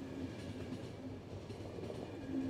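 A train rolls steadily along in the video game The Final Station, a low continuous rumble with faint rhythmic clickety-clack from the wheels, fairly quiet and without voices.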